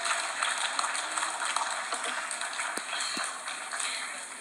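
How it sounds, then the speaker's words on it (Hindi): Steady applause fills the hall at a national film award ceremony as honourees are recognised, a dense even patter of many hands with a few sharper claps standing out. "जोरदार तालियां इन अवार्डीज के लिए।"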